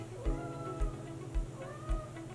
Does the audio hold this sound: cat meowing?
yes